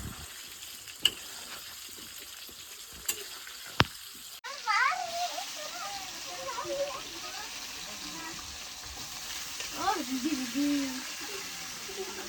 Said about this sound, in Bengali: তো এখন পেঁয়াজটা একটু ভাজা ভাজা হবে।